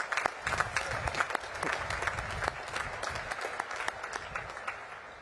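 Applause from the audience at a Naval Academy commencement ceremony, steady and sustained crowd clapping with dense overlapping claps that carry evenly throughout, heard at a moderate distance in a large outdoor setting.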